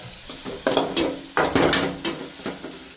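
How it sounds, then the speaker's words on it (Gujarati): Chopped onions sizzling as they fry in a pan in a home kitchen, with scraping stirring strokes and metallic clinks of a spoon against the pan coming in irregular bursts over a steady low hiss. "આપણે ડુંગળી શેકાય છે"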